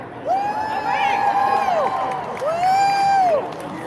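A large crowd at a Bernie Sanders rally cheers loudly and continuously, with rising whoops and shouts layered over a broad roar, held for several seconds.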